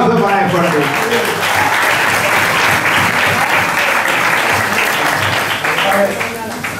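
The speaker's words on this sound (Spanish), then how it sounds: "Un aplauso para el fuerte" Diners give loud, sustained applause during a prize-giving at a historic vehicle club dinner in a restaurant. Dense clapping fills the room for several seconds, with voices and cheers mixed in, then tapers near the end.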